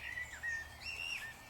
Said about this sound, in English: sitting here listening to the birds.